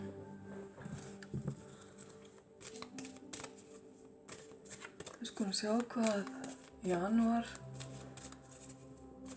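Tarot cards are shuffled for a reading, a run of soft riffling and flicking patters as someone speaks over the shuffle, with short quiet pauses between bursts.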